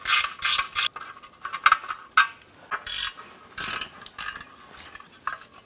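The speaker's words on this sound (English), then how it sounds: "Using a 12mm gear wrench, we're going to go ahead and remove our 3 bolts holding our heat shields." A 12mm gear wrench ratchets in quick clicking bursts while heat shield bolts are removed, the sharp metallic clicks close and uneven across several strokes, with no talking.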